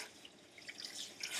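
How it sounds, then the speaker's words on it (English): Water flowing and dripping through a human hair lace-front wig as it is rinsed from the underside in a sink, a faint, steady trickle with scattered splashy drips. "you always want the water flowing through the wig from the underside"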